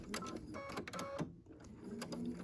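Sewing machine stitching a fabric gift bag, a steady mechanical whir running near and alone, with a brief pause in the middle before the stitching resumes.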